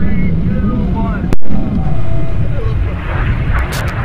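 A University at Buffalo rocket lifting off from the pad at Spaceport America in 2022: a loud, continuous roaring rumble with a sharp crack partway through, as people talk throughout.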